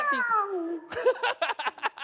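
A person imitates a cat whose tail is caught in a door. The call is a drawn-out falling yowl, followed by a quick run of short, loud meow-like cries, with no talk over it.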